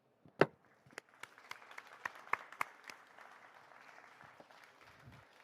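Applause from the audience at a business masterclass stage talk, starting with a few sharp, loud claps and then thinning into a scattered, fading patter of hand claps over several seconds.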